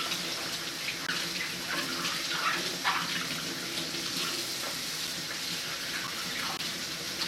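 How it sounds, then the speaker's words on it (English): Water runs steadily from a tap as onions and lemons are rinsed, a continuous splashing wash with small irregular spatters where the produce breaks the stream, close by and without voices. "Right now I'm just cleaning my onions and my lemons."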